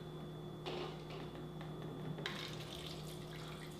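Kangen water poured into a glass holding a tea bag, a steady liquid splash and trickle lasting several seconds, getting brighter partway through over a constant background hum.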